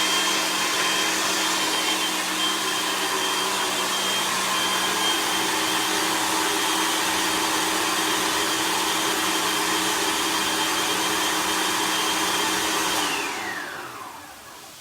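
A blender whirs loudly and continuously while blending pesto, a steady high motor roar that holds for several seconds, then winds down as it shuts off.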